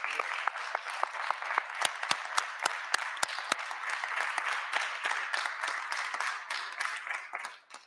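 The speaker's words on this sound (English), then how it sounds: "I invite you to join me in applauding their effort." Applause in the Ontario legislature during a budget address, a steady burst of many hands clapping from a large room that fades out at the end.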